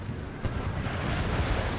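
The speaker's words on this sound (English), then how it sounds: "More good cannon hits on these horse back here." Cannon fire booms over a battlefield in Empire: Total War as shells strike cavalry, with a loud, continuous rumbling roar and a sharp impact early on.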